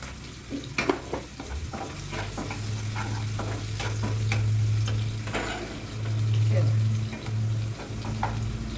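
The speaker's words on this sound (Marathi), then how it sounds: "आणि हलवून घेऊया थोडासा कडीपत्ता टाकूया" Curry leaves crackling in hot oil for fried rice, a continuous close sizzle with repeated stirring scrapes and a few sharp pops, no voices.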